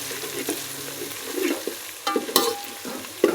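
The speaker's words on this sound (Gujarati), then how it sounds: "ધીમે ધીમે હલાવી દઈશું મારા વાલા।" Chana masala sabzi with green chilli and ginger paste is stirred as it fries in a pan. Close, uneven scraping and clattering spoon strokes sit over a soft, steady sizzle.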